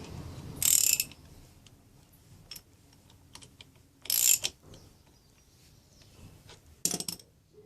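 Motorcycle chain being riveted with a chain riveting tool, three short sharp ratcheting clicks spaced a few seconds apart, close, with quiet handling noise between and no talk.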